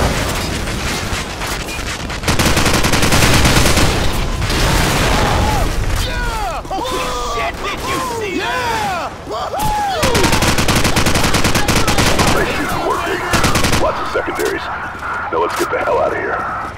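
Call of Duty 4: Modern Warfare gunfire in the War Pig mission booms loudly with heavy sustained bursts and explosions, alongside whistling and descending effects and radio-style voices in the mix.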